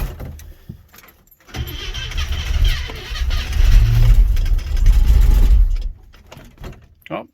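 International truck parked in a snowbank, cold start with a mechanical fuel pump: a loud close engine cranks and catches, then a rough rumbling idle for several seconds before cutting out, with brief clunks at the end.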